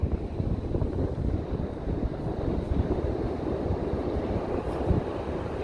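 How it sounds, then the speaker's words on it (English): Strong wind on a beach buffets the microphone with a constant loud, close rumbling roar that continues the whole time. "Just trying to shield the camera from the wind here."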